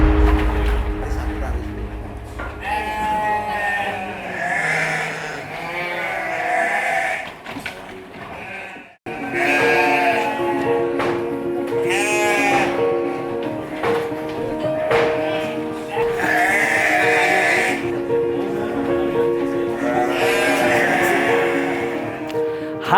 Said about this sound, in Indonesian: Nih, nyaringnya bunyi domba-domba di belakang saya.